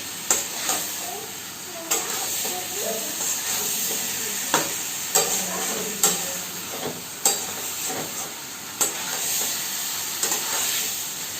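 Cauliflower and potato sautéing in a pan, a steady close sizzle broken by regular scraping strokes of a spatula every second or so, with no talk.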